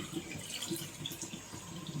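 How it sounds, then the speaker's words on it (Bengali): A small amount of water is poured into a pan of simmering poa fish curry, a soft, steady splashing and trickling that runs for a couple of seconds with no voices. "এখন আমি একটু পানি দিয়ে দিব।"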